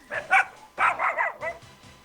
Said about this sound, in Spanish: ¿Quién tiene el perro, por favor?